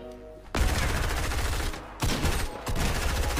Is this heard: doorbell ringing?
no